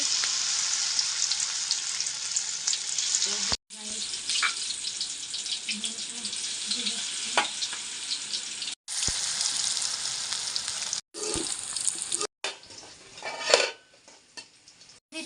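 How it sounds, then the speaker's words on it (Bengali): Fish and leafy-greens fritters fry in hot oil with a steady, bright sizzle, broken by a few abrupt cuts, while utensils clink against the pan now and then. "এবার ভাজার পালা যে তেল দিছিলাম আরও কিছু তেল দিয়ে দিচ্ছি এই যে এখানে এবার বড়াটা দিয়ে দিতেছি"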